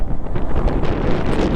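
Gusting wind suddenly picking up before rain on a solo motorcycle ride near Chikmagalur, a loud steady rumble buffeting the microphone for the whole stretch with no talk over it.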